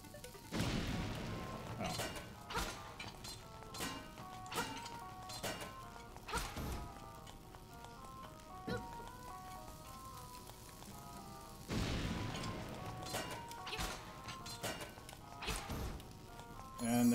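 Bomb blasts in the video game Zelda: Link's Awakening, a run of short punchy booms and crashes spaced irregularly across the clip, with thicker bursts near the start and again partway through, under light game music.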